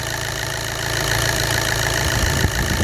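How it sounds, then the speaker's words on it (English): A VW/Audi-group diesel engine, 1.6, 2.0 or 3.0 litre, idles steadily while warming up, with a close, continuous low diesel rumble and faint knocking that grows slightly louder partway through. "what we're going to do is leave the engine warm up"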